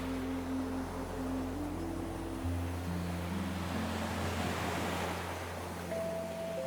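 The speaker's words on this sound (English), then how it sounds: "The swells of the Atlantic meeting the basalt base of the island in long, low impacts." Atlantic swells breaking against the basalt base of a Faroe Islands island, a steady low wash of surf with a continuous rumble and a faint low hum underneath.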